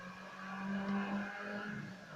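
A racing car engine in the Need for Speed video game revs and accelerates, a steady droning tone that swells and eases, heard alone at moderate level.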